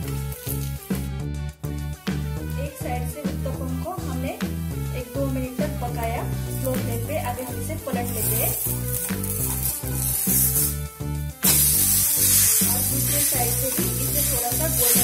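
Sooji (rava) uttapam sizzling and frying steadily in oil on a pan over a low flame, a dense continuous crackle with some stirring or scraping sounds.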